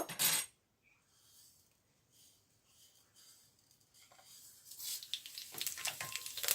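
Fennel, fenugreek and other spices hit hot oil over a low flame for fish curry. A brief sharp sizzle comes first, then a quiet lull, then a louder crackling sizzle that swells toward the end.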